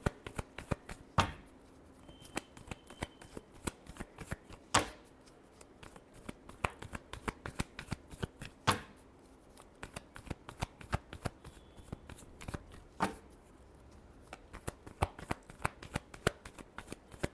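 Tarot cards are shuffled by hand in quick, crisp riffling bursts, a dense run of sharp snaps with several louder slaps spaced a few seconds apart, close and clear with no talk.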